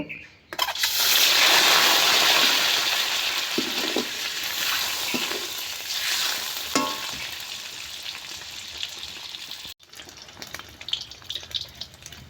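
Eggs frying in hot mustard oil in a wok give a loud, steady sizzle that fades a little over time, with a few light scrapes and a brief break near the end.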